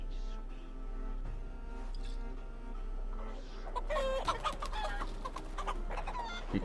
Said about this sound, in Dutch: We worden aangevallen door kippen.